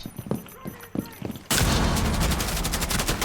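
Rapid burst of gunfire in a video game speedrun on Old Oregon, loud and sustained after a stretch of quieter game sounds and a voice.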